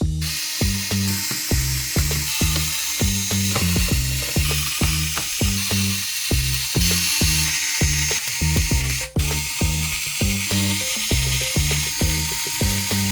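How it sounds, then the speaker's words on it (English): Repeated ratcheting bursts of a screwdriver or powered driver backing screws out of the metal frame of a Lenovo ThinkCentre all-in-one computer, close and steady, with short pauses between screws and no talking. "you still need to remove a bunch of screws that are all around this metal part"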